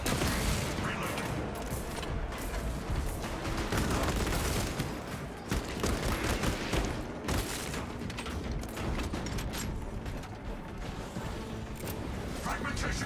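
Sustained, loud automatic weapon fire in Space Marine 2 during Techmarine play, a dense rattling barrage with crashes and mechanical clatter that runs almost without pause, mixed with other battle noise.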